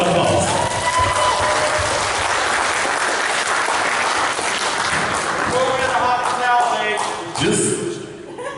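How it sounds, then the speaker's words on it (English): Indoor crowd applause at a party event, steady dense clapping with some cheering that swells and fades toward the end, voices mixed underneath. "A round of applause."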